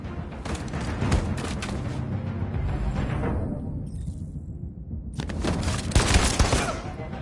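Rapid gunfire bursts in Detroit: Become Human, loud and dense, fading into quiet around the middle before another heavy volley erupts near the end.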